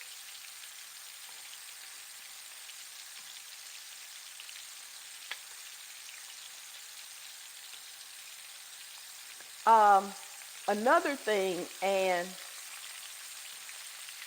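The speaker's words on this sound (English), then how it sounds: "the sizzling will go down" Steady broadband hiss of shrimp frying in hot oil, with a brief burst of speech partway through.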